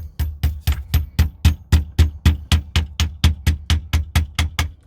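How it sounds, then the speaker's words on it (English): A hammer taps a pin into an airsoft gas magazine, around twenty steady, evenly spaced metallic taps at close range with no talking. "just give it a tap with your hammer"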